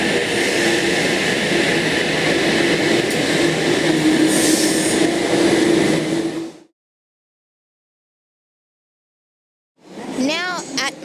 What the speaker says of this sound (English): we have that Oscar that you just saw at Town Hall departing platform 2